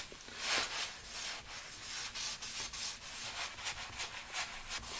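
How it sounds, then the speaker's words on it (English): Cloth wiping oven cleaner off the inside of an oven, a continuous close scrubbing and rubbing with quick irregular strokes, moderately loud, no speech. "I thought I'd just show you me wiping some of this"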